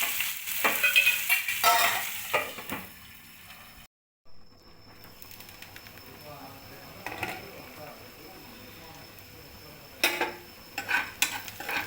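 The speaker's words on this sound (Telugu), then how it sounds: "ఇవి కొంచెం వేడైన తర్వాత ఈ ఉల్లిపాయ ముక్కలు చిన్న చిన్నగా కట్ చేసుకొని ఇలా వేసుకోవాలి ఇవి కొంచెం బాగా కలిపి కొంచెం సేపు మగ్గనివ్వాలి" Chopped onions stirred and cooked in a pan, heard as repeated close scraping and clattering strokes over a low sizzle, with a brief silent gap partway through and a steady background hum.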